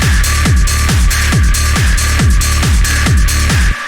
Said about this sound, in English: it's this big, fat 909 hi-hat.